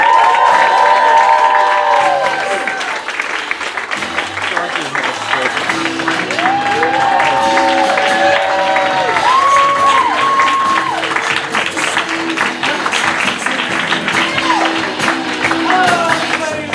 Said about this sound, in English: please give a huge round of applause for True Colors!